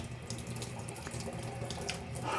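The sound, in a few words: water running from kitchen tap into sink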